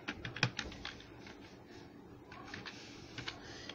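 Code being typed on a computer keyboard, a quick uneven patter of close, light key clicks with a sharper tap near the start and short pauses between bursts, no speech.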